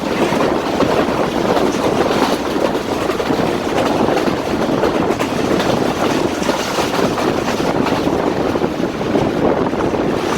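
The Jaffar Express passenger train runs at speed between Lalamusa and Jhelum junctions in Pakistan, heard from on board as a steady loud rumble and rattle of wheels on rails with wind roar, continuous throughout and with no talk.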